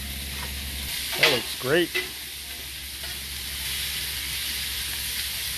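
Sausage and peppers sizzle on a BBQ grill in a steady, broadband hiss that runs the whole time, with one brief spoken remark partway through.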